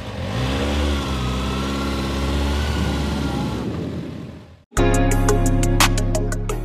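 A 2025 Kawasaki Z6R motorcycle engine idles and rises loudly nearby, cuts out for a moment, then restarts with a steady rumble broken by sharp revving blips.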